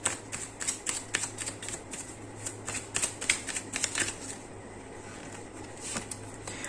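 Tarot cards being shuffled and drawn close by, a quick run of crisp riffling flicks that slows into a few softer slides and taps, with a low steady hum underneath.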